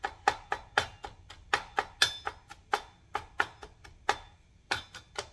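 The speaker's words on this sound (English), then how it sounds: "And again, we want it to be chopped really fine." Scallions are chopped finely with a knife on a cutting board: a steady, rhythmic series of crisp, close taps, about three per second, with no talking.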